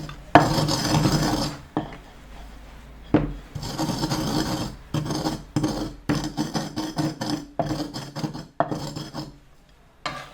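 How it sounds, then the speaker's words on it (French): Salt and dill seeds being crushed in an earthenware mortar, repeated close gritty grinding and rasping strokes in bursts with brief pauses between them. "pour d'abord écraser un peu de sel avec des graines d'aneth"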